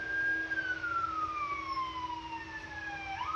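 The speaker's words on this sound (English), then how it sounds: "Ambulance. Ambulance." An ambulance siren wails past, one steady tone sliding slowly downward as the vehicle goes by, loud and close over low traffic rumble.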